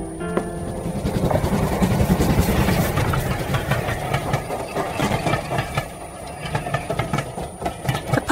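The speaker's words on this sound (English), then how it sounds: "The passing trains are a nuisance." A train passes close to a house garden, a loud, steady rumble of rail cars with engine drone that swells early and then holds at a continuous roar for several seconds, with no voices over it.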